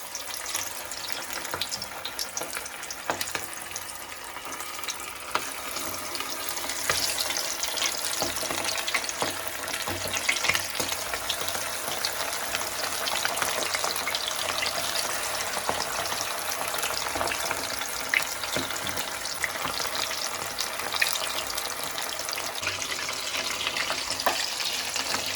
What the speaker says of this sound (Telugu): ఆయిల్ వేడెక్కినాక డీప్ ఫ్రైకి చికెన్ ముక్కలు వేసుకుందాం